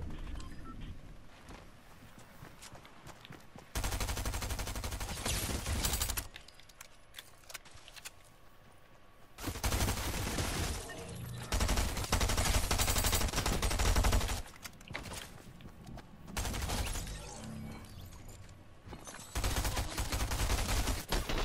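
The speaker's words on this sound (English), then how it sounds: "he's shooting at these people" Bursts of automatic gunfire from a Fortnite match come in several loud, dense stretches separated by quieter gaps, like rapid weapon fire in short volleys.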